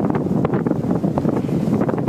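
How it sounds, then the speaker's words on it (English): Loud, continuous roaring rush of a wildfire burning in Carlsbad outside San Diego, a dense broadband surge with crackling bursts and gusty swells throughout, no voices. "That is the roar of a wildfire in Carlsbad outside San Diego"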